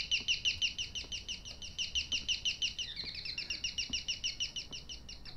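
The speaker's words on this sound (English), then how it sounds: "It's like a bird or something." Bird calls from the horror video game Devotion: a rapid, rhythmic series of high repeated chirps, steady and fairly faint, with no talking over them.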